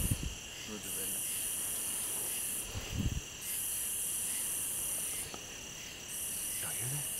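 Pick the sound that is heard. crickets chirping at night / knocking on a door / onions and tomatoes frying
crickets chirping at night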